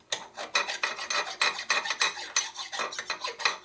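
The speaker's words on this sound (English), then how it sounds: "Now the file goes right up now." A hand file rasps a burr off a cylinder stud on an S&S 113ci Evolution Harley motor in a quick, steady series of close, gritty metallic strokes, about three per second.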